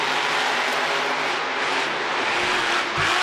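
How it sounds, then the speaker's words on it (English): Monster Jam monster trucks race side by side on an arena track in Houston, their engines making a dense, loud, continuous roar that fills the whole stretch with little variation. "Starting us off in racing against Nick Pagliarulo in Kraken."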